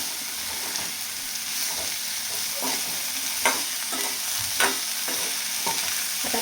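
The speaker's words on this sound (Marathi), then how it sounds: "तर आता हे कारलं आहे ना एकदा छान परतून घ्यायचं" Bitter gourd is stir-fried uncovered over high flame in a pan for a spicy masala dish, a steady close sizzle broken by repeated scraping strokes of a spatula at an irregular rhythm.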